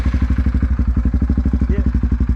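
A Yamaha Grizzly 450 ATV with an HMF Performance Series exhaust idles nearby, not yet jetted. It makes a loud, steady, rhythmic thumping putter of rapid even exhaust pulses.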